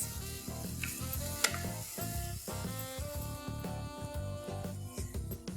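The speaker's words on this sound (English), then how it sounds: "Now what we want is the onions to catch some colour and for the ghee to slightly separate" Onions fry in ghee with a quiet, constant sizzle as a spoon stirs and scrapes the pan in quick, regular strokes, and one sharper clink rises near the start.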